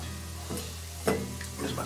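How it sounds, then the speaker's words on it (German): Mushrooms and butter frying in a pan set at the edge of a grill, a soft steady sizzle with a few sharper crackles and stirring scrapes. "dann tue ich hier gleich mal auch die Butter rein. Ach, Champignons und den Rest auch gleich mit dazu."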